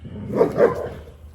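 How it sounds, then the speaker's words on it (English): Dogs bark twice in quick succession at close range, sharp and fairly loud, then fall quiet. "These dogs."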